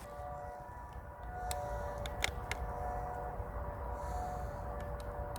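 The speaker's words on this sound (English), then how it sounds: "the siren's going" An outdoor siren sounds faintly in the distance as a steady wailing tone beneath low background rumble, with a few sharp clicks nearby.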